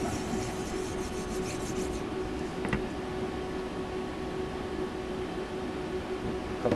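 Flexcut Gold polishing compound rubbed onto an oak sharpening board, a steady close scraping and rubbing with one brief knock midway.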